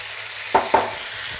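Spice paste frying in a pan over high heat, with a steady low sizzle broken by two short scraping strokes as it is stirred; no talking.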